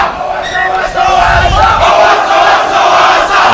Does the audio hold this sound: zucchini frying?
no